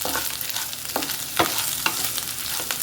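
Ginger fries in a pan for chutney on a gas stove, a bright sizzle broken by several distinct spoon-scraping strokes as it is stirred, close and alone without speech.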